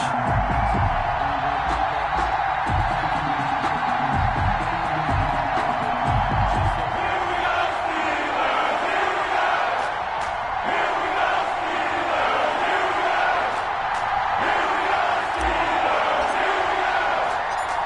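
A stadium crowd in an EA Sports NFL video game roars steadily throughout a Carolina Panthers versus Pittsburgh Steelers matchup, a dense loud wash of cheering and yelling with faint commentary beneath.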